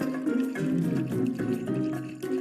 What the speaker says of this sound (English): use the water bottle at the top of your riverbed and slowly pour.